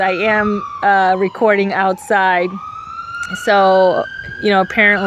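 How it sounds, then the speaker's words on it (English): Ambulance siren passing outside, its sweeping wail rising and falling at moderate distance behind someone talking throughout. "I hope whoever that ambulance is for,"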